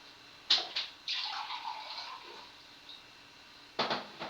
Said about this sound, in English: you're supposed to put some water in it